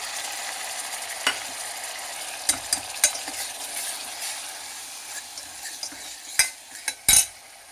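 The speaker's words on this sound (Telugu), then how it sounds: "మీడియం ఫ్లేమ్లో పెట్టి వేయించాలండి." Two medium-sized small onions frying on a medium flame, a steady gentle sizzle broken by sharp metal spoon clinks and scrapes against the pan.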